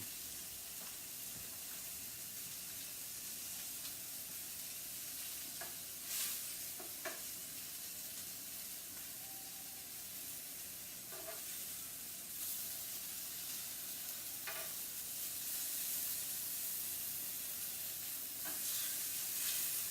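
Peppers grilling in a pan for a keto chicken dinner give a steady close sizzle with faint hiss, broken by a few brief louder crackles and stirring scrapes.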